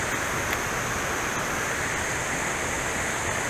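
Creek water tumbling down a small cascade at a dam, a steady, dense broadband rush of falling water, close and continuous with no pauses and no voices.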